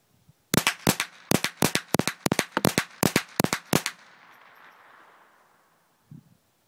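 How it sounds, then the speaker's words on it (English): A Mossberg 715T rifle is fired rapidly outdoors, about ten sharp, loud cracks in quick succession over roughly three seconds, followed by a fading echo and a faint clunk. "I'm just going to rapid fire, because everybody wants to see rapid fire."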